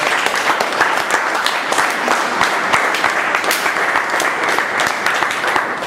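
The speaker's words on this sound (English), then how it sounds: "he deserves a big round of applause" Loud, steady applause from a meeting audience for the table topics master, close and continuous with sharp individual claps standing out across the whole stretch.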